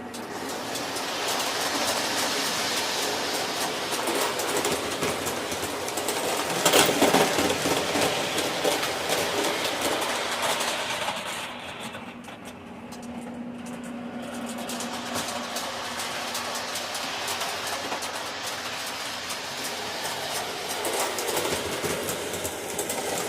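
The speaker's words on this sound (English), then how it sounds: "Well, we can get the train running." A small O gauge model train rumbles steadily along its track with a continuous mechanical whir, loud and close throughout, briefly dipping midway before resuming.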